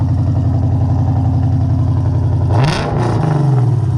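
Loud close idle from a Lexus RC F fitted with an RES exhaust, a steady throbbing low rumble that rises in a short rev near the end and eases back down.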